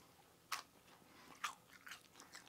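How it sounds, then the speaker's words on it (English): Crunchy homemade beer-batter onion rings being bitten, two sharp crisp crunches followed by softer chewing, close and quiet with no talk. "You hear that crunch?"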